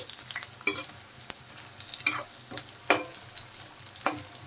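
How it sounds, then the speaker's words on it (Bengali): Capsicum pakoras fry in hot oil, a continuous soft sizzle broken by sharp stirring and turning clicks at irregular intervals, close and clear. "উল্টে পাল্টে পকোড়াগুলো খুব ভালো করে ভেজে নিতে হবে।"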